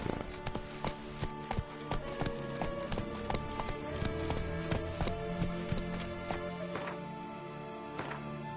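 Roach the horse galloping in The Witcher 3, hooves clip-clopping in a fast, steady rhythm against a backdrop of game music, close and clear, with no speech.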